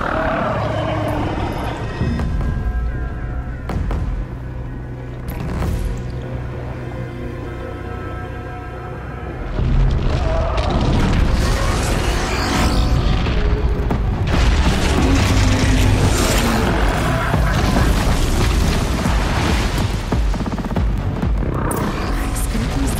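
Explosions in the video game Horizon Zero Dawn, deep booming blasts and rumbling that swell louder midway and continue with crackling debris and mechanical noise.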